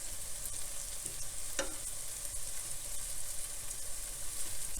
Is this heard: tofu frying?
yes